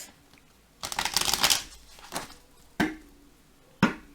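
Tarot cards shuffled and drawn for a reading, with a long riffling burst followed by several sharp, close card snaps spaced apart, no talking.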